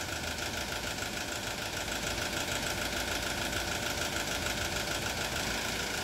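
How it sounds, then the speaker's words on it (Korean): An Isuzu forklift engine with one injector cut off runs with a rough, knocking idle and a hunting RPM, loud and continuous throughout with no talk. "2번 인젝터가 죽었기 때문에 엔진 RPM이 헌팅이 합니다."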